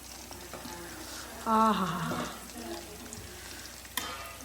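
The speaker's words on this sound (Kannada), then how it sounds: "ಸೈಡಲ್ಲಿ ಕಬಾಬ್ ಫ್ರೈ ಆಗ್ತಾ ಉಂಟು." Kebab frying in a pan beside a pot of chicken dum biryani gives a steady, close sizzle with occasional stirring scrapes, and a voice briefly exclaims over it.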